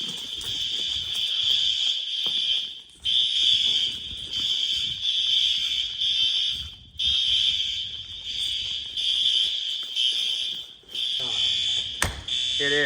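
A high school fire alarm blares a loud, steady high-pitched tone with short, uneven gaps as the horns fall out of sync, and faint voices sit underneath.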